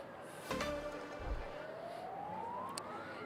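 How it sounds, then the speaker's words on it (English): A faint siren wails far off, its tone slowly rising, over quiet background hum and a few soft knocks. "We've heard some sirens in the distance, though."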